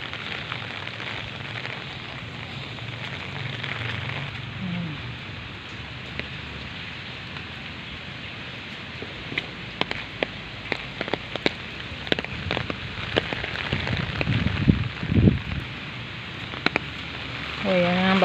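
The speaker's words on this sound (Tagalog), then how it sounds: "Ngayon pa lang lumalakas ang ulan." Rain falls outside a house, starting as a soft steady patter and building into louder, crackling drops toward the end, with a voice briefly heard.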